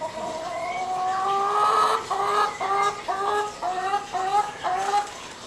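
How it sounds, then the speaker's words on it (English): Hen clucking at a nature center, a run of repeated harmonic clucks and squawks close by, loud and continuous with short gaps toward the end. "Hey, chicken."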